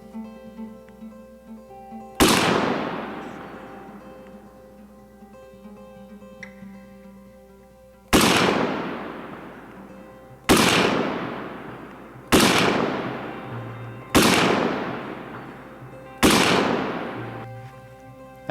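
Six rifle shots from a Civil Defense SPR Stoner clone at a range, each a loud sharp crack with a decaying echo, spaced a few seconds apart with no talk.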